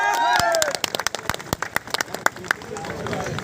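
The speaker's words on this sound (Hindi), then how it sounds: "ताली बजा दो" Scattered audience applause at a Guwahati gathering, starting as a burst and thinning into separate sharp claps with crowd murmur and voices underneath.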